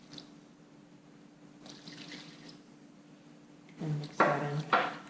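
Water poured into a bowl of arepa dough mix, a soft steady trickle at first, then louder splashing bursts of pouring near the end, close by.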